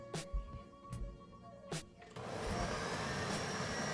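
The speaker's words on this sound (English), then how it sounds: "Blend it up." Kitchen blender whirring through a jar of taco sauce, starting after a few knocks and clatters, then running as a loud, steady near roar.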